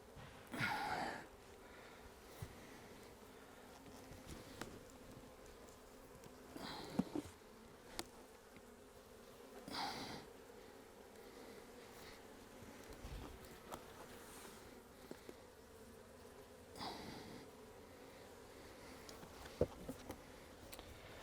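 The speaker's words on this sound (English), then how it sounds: "We've got some spare bees here." A steady buzz of many honey bees around a nucleus hive hums throughout at low level, with faint clicks and knocks from frame handling close by.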